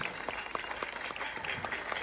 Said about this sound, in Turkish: Çok büyük bir alkış.